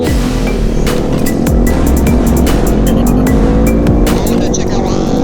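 A 2020 Honda Grom motorcycle engine with stock exhaust roars continuously, revving and shifting with a rough, throaty exhaust tone, close by throughout with little variation in volume.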